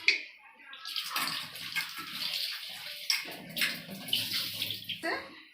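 Potatoes are washed by hand in a bowl of water for a mutton curry, splashing and sloshing close by in uneven bursts for several seconds.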